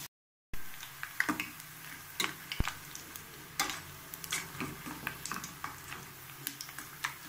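Ribbon pakoda deep-fries in hot oil, a constant close sizzle and bubbling broken by light clicks and taps from a utensil at the pan, with no talking over it.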